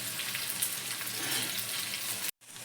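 Bitter gourd pieces frying in hot oil while being turned over, giving a steady, dense sizzling hiss that runs unbroken until it cuts off abruptly near the end.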